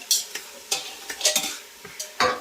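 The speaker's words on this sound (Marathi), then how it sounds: "आता मिक्स करतोय आम्ही." A spoon stirs and scrapes food around a sizzling pan in a home kitchen, a series of close, uneven scraping strokes over a low frying hiss, with no talking.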